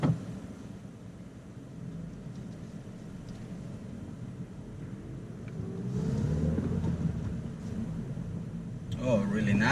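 A 2018 Toyota Corolla iM with manual transmission drives along with a low engine and road drone that rises midway as it accelerates. A voice is heard talking over it near the end.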